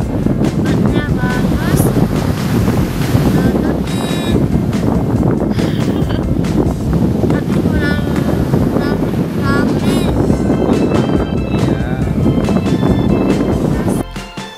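Outdoor ambience at Pantai Bintang beach on Lombok, a steady, loud wash of wind and surf running throughout, with a low rumble like a boat or heavy wind buffeting the microphone and faint scattered voices in the background.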